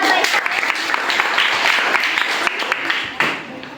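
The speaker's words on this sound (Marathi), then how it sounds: "पहिलीसाठी सगळ्यांनी टाळ्या" A crowd claps in a dense, steady burst of applause at a primary school quiz event, holding for a few seconds before tapering off at the end.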